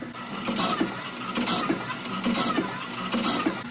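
A bandsaw blade sharpener grinds a blade's teeth in a steady mechanical hum, broken by four bright, regular grinding bursts about a second apart, with faint talk underneath.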